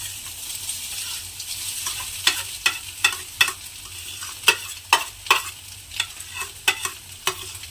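A utensil scrapes a pan in a series of distinct strokes, roughly one every half second, stirring egg and grated potato into frying onion over a low, steady sizzle.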